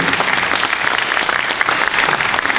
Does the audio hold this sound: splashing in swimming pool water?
no